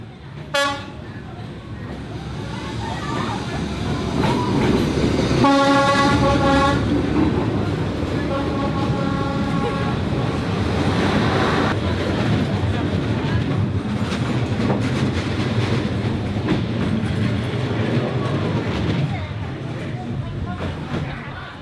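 A train rolls past nearby in Hanoi, Vietnam, a loud sustained rumble with rhythmic clicking of wheels and a couple of horn toots, while people talk softly over it.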